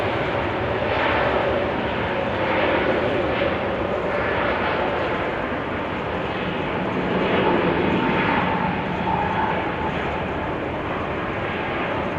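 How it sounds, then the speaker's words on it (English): A year-old Swiss Airbus A321neo jet at Amsterdam Schiphol Airport in showery weather gives off a steady, loud, broadband engine roar that holds nearly constant throughout, with no voices over it. "Swiss flight 725 to Zurich, A321neo."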